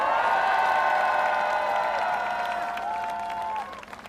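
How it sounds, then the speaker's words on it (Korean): A crowd at a political campaign rally applauding and cheering outdoors, with sustained clapping and shouts mixed with a loud tonal sound, likely amplified music, that cuts off before the noise thins out. "자, 박수 한번 주십시오."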